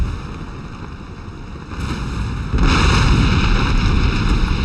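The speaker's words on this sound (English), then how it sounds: "And there's the explosion." A burning sailing ship exploding in a naval battle video game, a rumbling blast that swells partway through and stays loud and heavy to the end.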